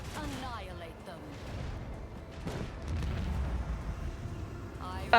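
Deep macro cannons in the video game Warhammer 40,000: Rogue Trader fire repeatedly in heavy, rumbling volleys, with a voice talking briefly at the start and end.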